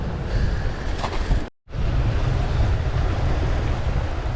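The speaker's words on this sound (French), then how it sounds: "Dans le vent" Strong seashore wind buffeting a microphone while fishing, with a rushing, roaring noise, cut by a brief silent gap partway through, then continuing steadily.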